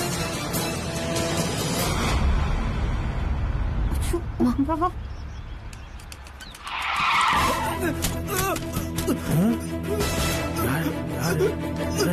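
A car roars up and skids hard on the road, tires screeching loudly, while people talk and shout around it in a Tamil television drama scene.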